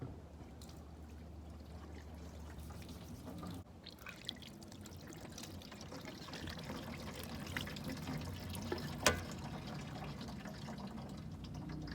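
Water from a small tank runs into a pottery sink drain with a catch bucket beneath, a soft, steady trickle and pour that continues throughout, with a few faint knocks.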